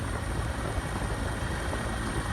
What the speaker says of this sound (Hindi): तो हेलीकॉप्टर के जरिए पुष्प वर्षा की गई है